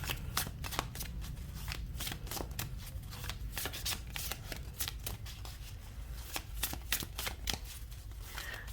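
A deck of Samhain-themed oracle cards being shuffled by hand, with rapid riffling bursts and sharp card slaps repeating steadily, close and fairly loud, with no talking.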